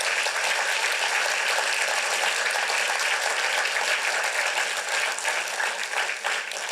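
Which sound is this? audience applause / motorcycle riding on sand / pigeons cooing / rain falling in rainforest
audience applause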